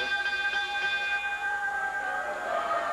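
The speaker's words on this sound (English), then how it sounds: "we're underway technically as the bell has sounded" A ring bell sounds at a CWA Memphis wrestling match, leaving a sustained metallic ringing tone with several bright overtones that slowly fades over a hum of arena noise.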